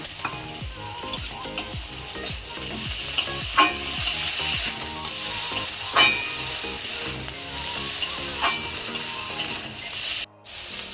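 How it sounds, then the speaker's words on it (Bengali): Spices and chopped tomato fry in a pan as a dense, close sizzle, broken by repeated scraping and stirring strokes, with a brief gap near the end. "এর সাথে আমি টমেটো কুচিটাও দিয়ে ভেজে নেব।"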